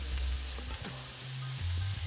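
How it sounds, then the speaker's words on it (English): Carrots tipped into a hot cooking pot set off a brief, steady sizzle with soft stirring and shuffling underneath, close and moderately quiet. "Now add the carrots."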